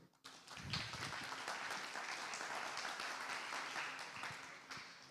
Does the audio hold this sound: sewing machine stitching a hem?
no